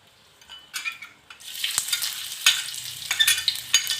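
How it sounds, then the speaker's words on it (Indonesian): Sliced shallots and garlic fry in hot oil for beef tongseng, sizzling steadily and loudly up close while a utensil stirs and scrapes through the pan. "Goreng bawang merah dan bawang putih yang sudah diiris-iris ya?"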